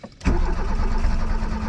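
A 1993 Renault Super 5 1.4i fitted with a GT Turbo setup cranks briefly and catches, its engine settling into a loud, rough, close idle with no talking.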